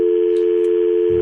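A telephone line goes dead into a steady electronic tone, one loud unbroken hum that continues without pause, with faint background noise during a radio call.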